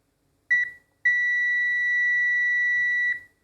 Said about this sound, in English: These ones should beep.